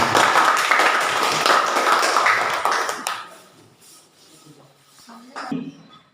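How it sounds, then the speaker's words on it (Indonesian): Students applauding group Mawar in a junior high school classroom, a burst of clapping about three seconds long that stops abruptly, followed by quiet room sound and a few faint taps. "Tepuk tangan untuk kelompok Mawar."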